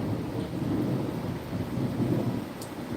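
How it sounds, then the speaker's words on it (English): Loud thunder rumbles continuously beneath steady heavy rain during a nasty thunderstorm, a dense low roar filling the whole stretch with no voices. "A lot of thunder, a lot of lightning."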